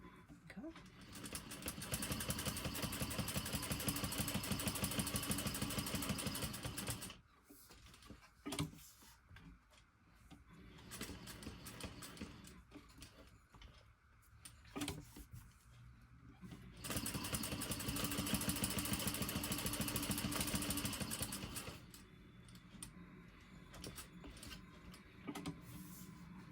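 Sewing machine stitching a crossbody bag, bursts of rapid mechanical clatter running several seconds at a time, separated by quieter stretches with handling noises, fairly close.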